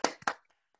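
Participants on a video call clap through their microphones, a few quick, close claps in a brief burst that fades almost at once into near silence.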